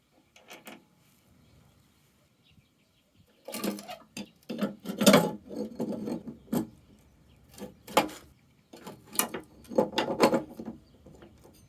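Metal washers and pulleys clink and clatter as they are slid onto the spindles of a Rally 38-inch mower deck, a quiet pause giving way to bursts of close, irregular metallic handling noise.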